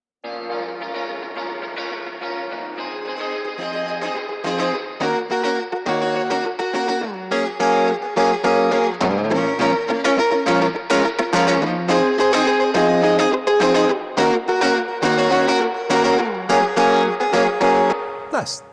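Sustained chords soaked in splashy reverb from Arturia's spring tank reverb plugin, with a metallic, drippy decay trailing each note and a steady, loud level throughout.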